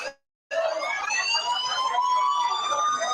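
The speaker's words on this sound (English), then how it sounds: "Y'all hit the sirens." A DJ sets off a siren effect after a short silence, a loud steady wailing tone with layered harmonics that holds for about three seconds, with no talking over it.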